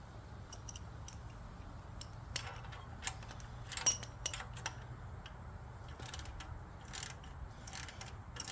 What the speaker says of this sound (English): And this is a snap-on wrench. A ratchet.